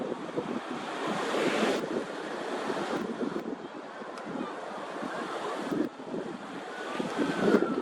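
Ocean waves rolling in along the coast, a steady rushing surf sound with wind noise on the microphone and a faint motor hum of a distant personal watercraft.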